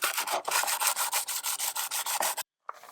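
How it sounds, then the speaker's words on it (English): Painted motorbike side pods being scuffed by hand, a rapid series of about a dozen rhythmic rasping strokes, close and even, ending in a brief pause and one last rub. "I'm going to make a start on the side pods first and just scuff up all of this paint"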